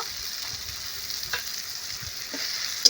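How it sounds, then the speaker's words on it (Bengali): Fish masala with garam masala powder being stirred in a hot pan, a steady low sizzle with soft scraping of the spoon, fairly quiet and close, no talking. "দিয়ে বেশ ভালো করে নেড়ে চেড়ে নেবো মশলাটা"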